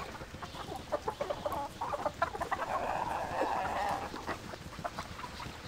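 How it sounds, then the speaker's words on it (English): Chickens cluck in a video game, a string of short, bright clucks and squawks, fairly close and busy, rising to a thicker flurry midway. "Okay, so you just brought all your chickens along with you, I see."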